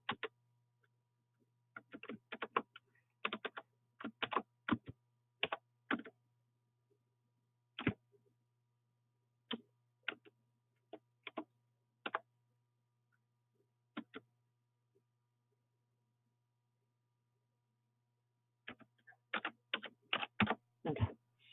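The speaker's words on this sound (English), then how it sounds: "I'm just going to type in these items that I don't have yet" Keys clack on a computer keyboard as items are typed in. The clicks come in quick bursts separated by long pauses, over a steady low hum.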